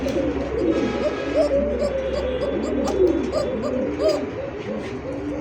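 An Arabian koka pigeon calls with repeated low, throaty cooing phrases, close and steady, over a continuous background hum with other birds faintly audible.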